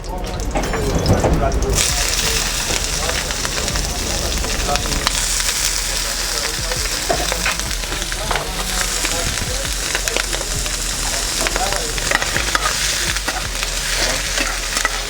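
Blanched shallots and mushrooms fry loudly in a pan, a dense continuous sizzle broken by the scrape and clatter of stirring, close and steady the whole time.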